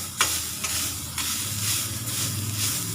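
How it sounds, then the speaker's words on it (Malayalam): Grated coconut dry-roasting in a pan over low flame, with a steady soft sizzle and hiss broken by a few scraping stirs, heard close and alone. "ഇങ്ങനെ തേങ്ങ ഒന്ന് വറുത്തെടുത്താൽ നന്നായിരിക്കും"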